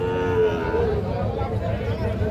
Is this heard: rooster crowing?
no